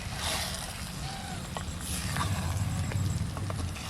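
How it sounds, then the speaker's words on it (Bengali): Spiced water is poured into an egg curry simmering in a clay handi, giving a steady, close, continuous watery rush and bubbling for several seconds with no voices over it. "এবার এই মশলার জলটা দিয়ে দিচ্ছি।"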